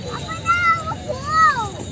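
Two short, high meows from a cat, close by, the second longer and rising then falling, over a faint background murmur in a park in Hyderabad.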